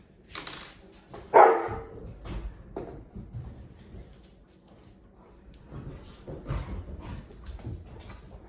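Household dogs playing in a living room, with a few sharp barks and yips among scuffling thumps and clatter, moderately close and irregular, no talking.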